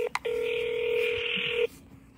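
A phone keypad gives two short dialing tones, then one long steady tone, clear and close in a quiet room, with no talking.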